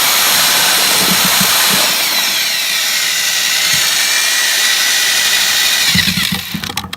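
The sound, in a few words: mixing concrete patch mix with polymeric additive and lime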